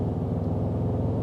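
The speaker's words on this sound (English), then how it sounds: "Why does this sound like a V8?" A 2022 Toyota Tundra engine rumbles low and steady at close range, a deep, even drone with no voices over it.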